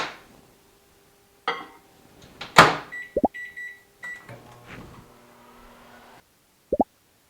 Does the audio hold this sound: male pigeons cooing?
no